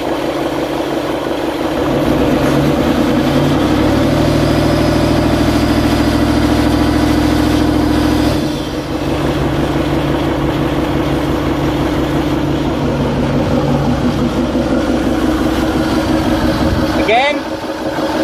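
A Range Rover Sport TDV8 3.6 diesel, fitted with a replacement turbo, runs close by with a deep idle, then is held at higher revs for several seconds before dropping back to a rough, rumbling idle.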